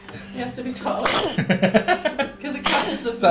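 Two loud, wet sneezes burst out about a second and a half apart, close by, with people talking in between.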